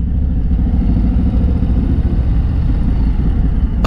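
A 2022 Harley-Davidson Low Rider S engine rumbles loud and close, a deep continuous throb with a steady mechanical clatter and no voices over it.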